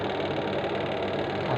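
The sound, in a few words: washing machine motor spinning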